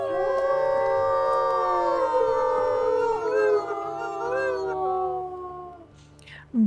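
Several wolves howl together in the WolfQuest game, long overlapping rising and falling tones that layer into a sustained chorus before thinning out, loud and close with no talk over them.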